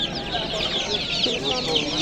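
Many black chicks, two weeks old, cheeping at a poultry market in Andijan, a dense chorus of high chirps close by, with people talking over them.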